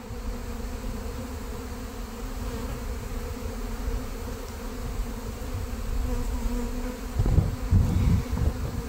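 Honeybees buzz steadily around a hive being removed from a mobile home, a dense continuous drone close by that swells slightly with a few louder bumps near the end.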